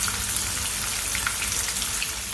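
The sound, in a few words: fish frying in a pan on medium flame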